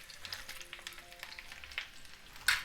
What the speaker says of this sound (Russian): Вот буквально минутку они обжарились с верхней стороны